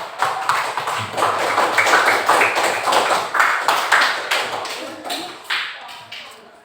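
Classroom of students clapping for one another during a lesson on deliberation: a burst of brisk, fairly regular claps that rises and then tapers away, with a voice faintly underneath.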